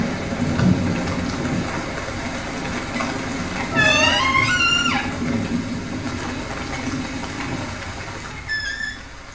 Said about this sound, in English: I can't let a little rain stop me.